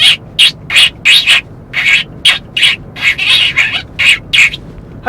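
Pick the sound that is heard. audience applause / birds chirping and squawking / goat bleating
birds chirping and squawking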